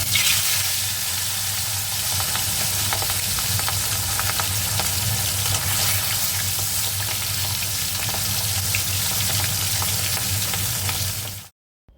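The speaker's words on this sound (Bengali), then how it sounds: "ওই তেলের মধ্যে আরেকটু সর্ষের তেল দিয়ে জিরে আর তেজপাতা ফোড়ন দিলাম" Cumin seeds and bay leaf sizzle in hot mustard oil with a loud, dense crackling hiss that holds steady for about eleven seconds before cutting off abruptly. No voices are heard.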